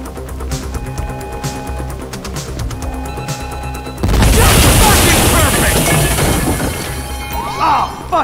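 Steady Grand Theft Auto V game music, then a sudden loud blast of demolition charges at about four seconds, followed by sustained crashing, crackling debris noise that stays loud to the end.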